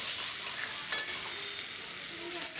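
Tomato paste and spices sautéing for a katla fish kalia curry, a steady hiss of frying with a couple of soft stirring scrapes, close and fairly quiet.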